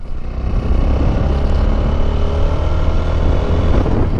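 Motorcycle engine running in third gear while the rider shifts without using the clutch, a loud steady low rumble close by with continuous mechanical roar and no talking over it.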